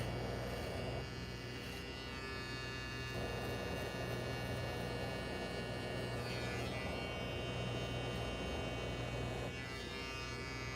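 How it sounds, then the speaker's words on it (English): A small electric hair trimmer runs close by with a steady buzzing hum that changes tone slightly as it is moved, continuing without a break and with no speech. "I gotta say, this little trimmer feels pretty good, Kenny."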